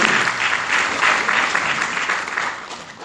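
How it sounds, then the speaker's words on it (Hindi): Audience applause for Amway during an Ayurveda talk, a dense sustained wash of many hands clapping at moderate loudness that fades slightly toward the end. "सो एक बार तालियां एमवे के लिए फिर से।"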